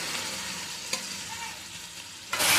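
Garlic and ginger paste fries in a pan for a chicken curry, giving a continuous soft sizzle with a few stirring scrapes and a sudden louder burst of sizzling near the end.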